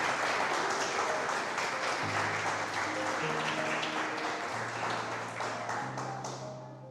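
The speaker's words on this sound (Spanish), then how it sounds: "Le daría usted un aplauso al Señor por esa maravillosa invitación." Congregation applauding during a Spanish-language church service, a busy patter of many hands clapping together while sustained keyboard or organ chords play underneath, the clapping thinning slightly toward the end.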